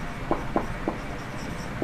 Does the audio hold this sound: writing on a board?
yes